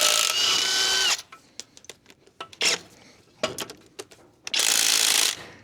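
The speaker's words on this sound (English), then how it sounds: "Let's get this backing plate off." Tools working a backing plate off a rusted 1958 Willys front axle: bursts of loud, close impact-wrench or ratchet whirring at the start, middle and end, broken up by sharp metallic clicks and clanks.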